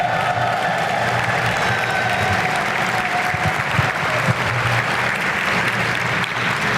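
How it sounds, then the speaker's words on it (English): An audience at a Rotunda civic gathering honoring Chappie Jones breaks into loud, sustained clapping, a thick, continuous burst of hand claps with faint cheers that holds at full strength for almost seven seconds. "So please, a round of applause"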